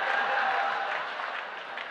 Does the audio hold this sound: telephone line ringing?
no